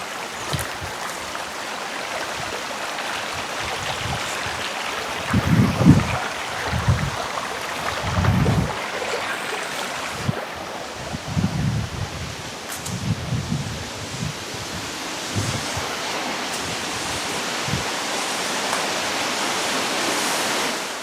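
Machkanda waterfall in Purulia gives a constant broad rushing roar, heard from a moderate distance, with intermittent low thumps and buffeting over it, and no voices.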